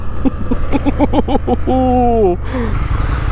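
An Indian FTR1200 motorcycle downshifts, with quick rising engine blips over a steady drone, heard close from the rider's position as a voice exclaims over it.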